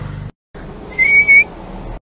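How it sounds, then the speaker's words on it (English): A person attempts to whistle: after a short silence, a thin, breathy tone wavers for about half a second, close and fairly soft against light room noise, with no talking. "Fuck, can't whistle."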